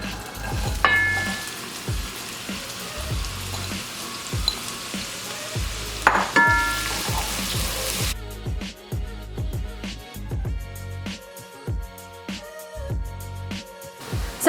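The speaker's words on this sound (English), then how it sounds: "now I'm gonna add my onions, and we're gonna saute them until they're nice and translucent and fragrant" Onions sautéing in oil over medium-high heat for a smoky eggplant curry: continuous close sizzle punctuated by regular spoon scrapes and stirs, the hiss dropping noticeably partway through, no talking.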